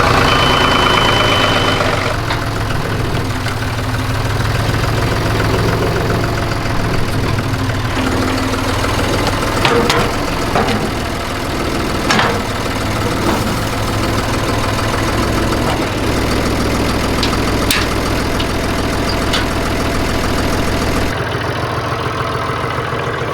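An old farm tractor engine idles steadily and close by, a continuous low rumble with slight knocking that holds throughout, with occasional small clanks over it and the sound cutting off abruptly near the end.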